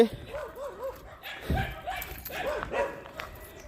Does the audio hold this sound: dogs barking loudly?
yes